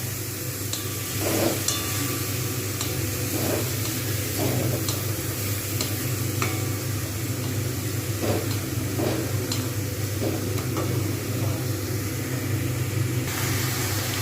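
Roasted, washed dal is stirred into a pot of bhog khichuri, giving a continuous sizzling hiss broken by repeated scraping strokes of a spoon against the pot at an uneven pace, with no talking.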